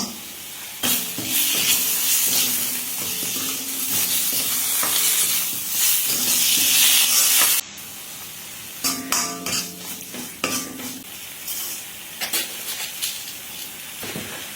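Blended tomato poured into a hot pan for an Indian curry paste, giving a loud, steady hissing sizzle with stirring scrapes, then easing into crackling bursts as it settles.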